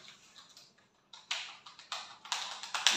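Keys clack on the keyboard of a Lenovo all-in-one PC, a close run of sharp, irregular taps that grows louder and more rapid toward the end.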